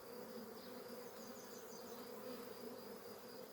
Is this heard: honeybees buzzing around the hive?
yes